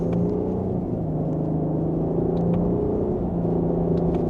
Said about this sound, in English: And I've put it into sport mode, second gear. Here we go.